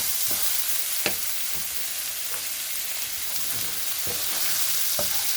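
Chopped ginger and garlic frying in oil and butter, a continuous bright sizzle with a few spatula knocks against the pan, close and steady.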